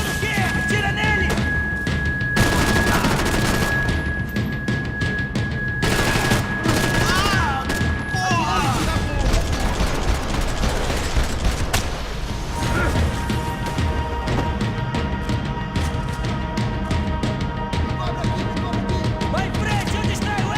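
Gunfire in the video game Max Payne 3, dense bursts of shots and crashing impacts that run almost continuously, loud and close, with faint voices mixed in.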